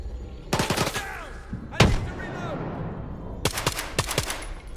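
Bursts of gunfire in the S.T.A.L.K.E.R. 2: Heart of Chornobyl video game: a rapid volley of shots, a single loud crack, then another quick string of shots, with a lingering echoing tail between them.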